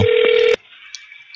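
A telephone dials out on a live radio simulcast, with a brief loud tone that cuts off sharply, then a faint thin tone on the line with a couple of small clicks.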